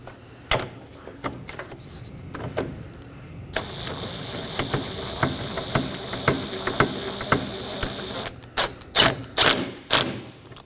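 Bolts are snugged down on the engine cooling fan assembly of a 2020-2027 Toyota Corolla with a ratchet, giving a steady run of fast mechanical clicks between scattered knocks and thuds.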